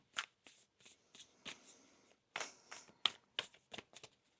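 Cards are shuffled close up in a run of quick, crisp riffling bursts separated by brief pauses, with no voices.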